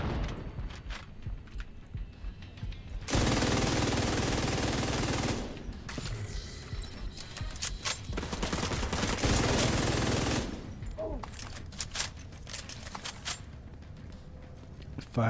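Sustained bursts of gunfire in The Division 2 while firing out of cover, loud dense volleys in two main stretches with quieter gaps of scattered shots between, a voice talking over parts of it.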